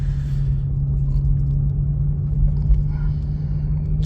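Low steady engine rumble from a Toyota A90 Supra driven very slowly and calmly, a constant droning hum heard from inside the car with no revving.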